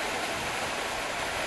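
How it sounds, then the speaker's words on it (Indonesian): A backyard waterfall feature rushes steadily, a dense, even hiss of falling water heard up close with no breaks and no voices. "air terjun."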